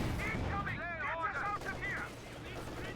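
Rattling light machine gun bursts in Company of Heroes 2, against heavily armed elite German infantry in light cover, moderately loud amid battlefield noise under a commentator's steady voice.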